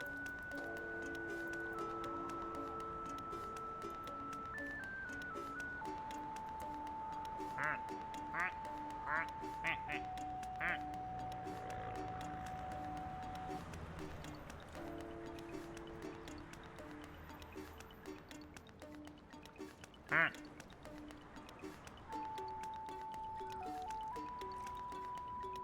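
Repeated cartoonish duck quacks from the video game Sable, several short bursts clustered mid-stretch and another sharp one later, sitting over steady game music and a person talking throughout.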